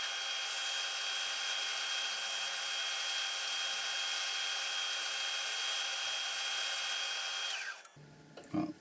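A turned pen spins fast on a lathe while being sanded with 180-grit sandpaper, giving a loud, steady whirring rasp that runs continuously and then cuts off abruptly near the end.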